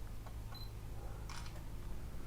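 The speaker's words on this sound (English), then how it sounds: "So let's take a picture right here on a 20th of a second" A camera shutter fires once at a slow 1/20 second exposure during a manual exposure demonstration, a brief mechanical click-and-snap heard close up over a steady low background hum.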